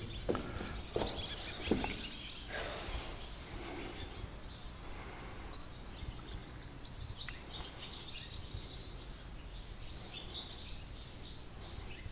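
Birdsong fills an abandoned village, with several small birds chirping and trilling steadily from a moderate distance over a constant faint outdoor hiss, with no talking.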